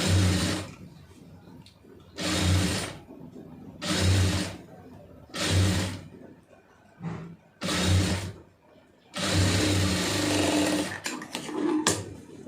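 A sewing machine stitching a pleated puff sleeve, running in about six short bursts of whirring needle clatter separated by brief pauses, fairly close and clear.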